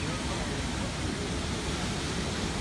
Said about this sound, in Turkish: Karpuz Kaldıran Şelalesi. Diğer adıyla Çağlayan Şelalesi de diyorlar.